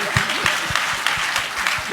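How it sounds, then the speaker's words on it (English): Audience at a school celebration at a farm school clapping steadily for a speaker, a dense wash of applause with a few louder individual claps standing out, close and continuous for the whole moment. "Can we clap hands for her once again?"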